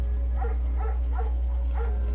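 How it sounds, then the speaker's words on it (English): A German shepherd barks in the video game Firewatch: four soft, evenly spaced barks over a constant deep background hum, with no talking. "There's also an intimidating but gentle-eyed German shepherd."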